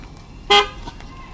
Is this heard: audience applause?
no